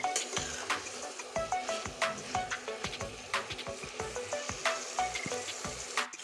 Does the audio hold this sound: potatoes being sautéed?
yes